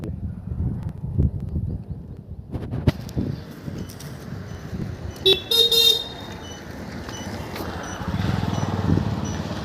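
Car horn from vehicle JB4812 on a road, a few short toots and one brief sustained honk standing out above traffic rumble and engine noise, with faint birds in the background.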